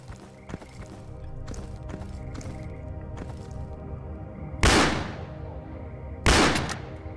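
A hunting shotgun firing in S.T.A.L.K.E.R. Call of Pripyat, two loud, sharp blasts a couple of seconds apart, each with a decaying tail. Quieter clicks and footsteps come before them.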